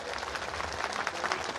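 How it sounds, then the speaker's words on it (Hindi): Dense applause from a gathered audience at a youth talk in India, a brief continuous wash of many hands clapping at moderate volume. "एक बार ताली बजाते हुए स्वागत करेंगे"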